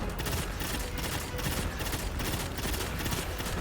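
Enemy boomers firing guns nonstop in the Tribute Hall of a video game: a dense, relentless fusillade of rapid shots and crackling bursts, loud and continuous, with no letup across the whole stretch.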